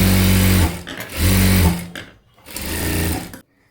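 Sewing machine stitching along the last edge of a blouse sleeve, running in three loud bursts of steady whirring with short pauses between, ending in silence.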